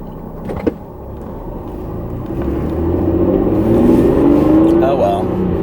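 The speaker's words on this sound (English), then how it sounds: "Do you hear my car? Like I was noticing when I was watching my vlog last night that it really sounds like it pulls really hard." A Ford car's engine drones and rises steadily while driving, pulling hard under acceleration, with a brief knock early on and a voice talking over it.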